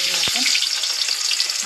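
Onion sizzles loudly in very hot oil in a pan, a dense, steady frying hiss with one quick knock at the start.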